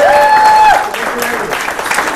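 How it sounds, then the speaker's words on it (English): Audience applause at a holiday networking party after a speech, steady clapping throughout, partly mixed with a sustained whistle-like tone at the start and voices in the room. "Another round of applause for Randy Taylor!"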